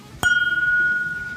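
A single sharp clink of a glass of Suntory Toki whisky as it is being emptied, followed by a clear ringing tone that sustains and slowly fades, close and alone.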